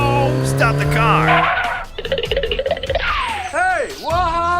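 A cartoon car skids to a stop, its tires squealing in sharp rising and falling sweeps. Animated voices shout over it.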